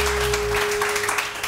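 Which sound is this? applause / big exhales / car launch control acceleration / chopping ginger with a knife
applause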